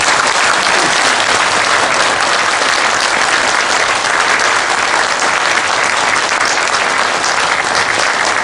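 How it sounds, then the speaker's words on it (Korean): Loud, dense audience applause for a general at a special lecture, a continuous even roar of many hands clapping with no gaps, sustained for several seconds. "그 민병돈 장군에게 여러분이 한번 꼭 박수 한번 보내주십시오"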